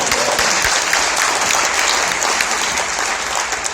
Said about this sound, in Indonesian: Tepuk tangan buat kami